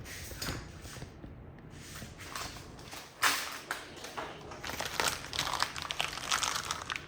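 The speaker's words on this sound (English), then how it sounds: "so now I can pull the knifeless tape" Knifeless tape is pulled through vinyl wrap film on a Tesla rear bumper, giving a soft ongoing crinkling and tearing rustle with brief sharper crackles, close up and fairly quiet with no talking.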